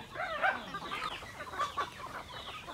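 Chickens cluck in a flock while being fed sliced papaya on a farm, several birds overlapping in quick, busy calls at close range with no talking.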